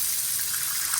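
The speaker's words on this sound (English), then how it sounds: "I'm gonna go turn my water on and see if I can get pressure." Water gushes in a strong, steady rush from a newly installed bathroom faucet in a Grand Design 390RK RV, heard close up with no voices.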